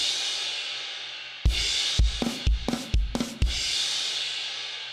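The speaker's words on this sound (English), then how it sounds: "like drum fill leading you into the guitar solo" A short drum fill leading into the guitar solo of a song, with several sharp, loud hits packed tightly together over a steady noisy backing, and no talking.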